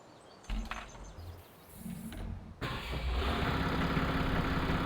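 Lamborghini tractor in a farming game: an engine cranks and sputters, falls briefly quiet, then catches and settles into a steady, fairly loud rumbling idle that carries through to the end.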